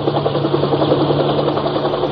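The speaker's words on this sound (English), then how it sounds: "Overhead, a helicopter windmilled toward the shambles." A helicopter drones steadily overhead as a radio drama effect, its low rotor throb and a constant engine hum filling the whole stretch with no voices.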